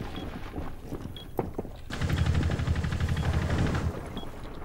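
Automatic gunfire in the tactical shooter Rainbow Six Siege, a few scattered single shots followed by a sustained rapid burst of roughly two seconds, loud and close.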